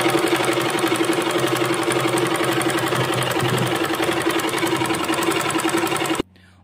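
Domestic sewing machine stitching pleats into a kurti, running as a steady fast mechanical whir with a constant hum for about six seconds, then stopping abruptly.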